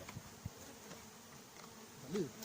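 Bees buzzing faintly during their extraction from a large coral rock, a low steady hum with a few brief louder passes close by near the end.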